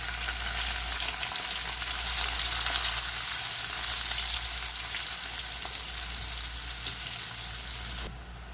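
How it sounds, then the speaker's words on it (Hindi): Onions sizzling loudly in hot oil for prawn masala, a steady bright crackle and hiss that drops off sharply near the end. "ऑयल गर्म हो गया, इसमें हम प्याज डालेंगे।"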